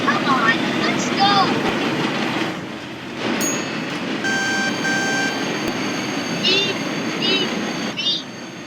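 In a train video game, an oil train runs at speed under a steady rolling rumble while a thin electronic derailment warning beep sounds in short repeated tones partway through, with a person talking over it.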